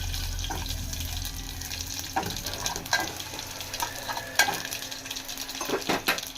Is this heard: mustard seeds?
yes